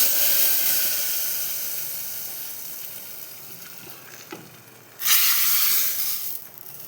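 Leaves crackle and sizzle in hot oil, a loud hiss that slowly fades, then flares up again sharply toward the end.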